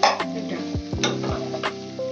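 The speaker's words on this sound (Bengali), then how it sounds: "ফুলকপি দিয়ে ভালো করে নাড়বো" A spatula stirs cauliflower frying with onions in a wok, giving a steady close sizzle broken by several distinct scraping strokes and soft clanks against the pan.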